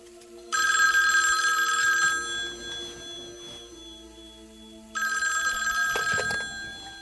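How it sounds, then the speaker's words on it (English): An old-style telephone bell rings in two loud, close bursts of about one and a half seconds each, separated by a quieter pause, with faint background sounds between. "Was that the phone?"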